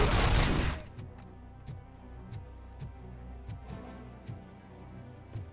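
Rapid bursts of gunfire from Robocop Rogue City, opening with a loud dense volley and then settling into a steady rhythm of distinct shots, all clear and close with no talking.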